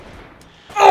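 A single gunshot from a weapon in the video game Screen Cheat, a loud sudden burst after a quiet stretch, cutting in near the end of the moment.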